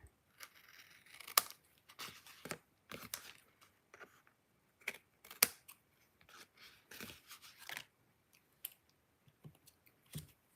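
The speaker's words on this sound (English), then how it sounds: "I'm going to take my paper snips and now I'm going to trim off the excess." Paper snips trimming excess paper during card making, giving a series of short crisp snipping clicks scattered irregularly across the stretch, close and moderately quiet with gaps between cuts.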